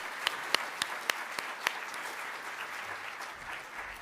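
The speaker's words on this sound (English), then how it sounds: "please, if you can join me on giving a big applause to our panel" An audience at a tech conference applauds a panel with a sustained wash of clapping, several sharp, prominent claps standing out near the start before the sound settles into a steadier, softer spatter.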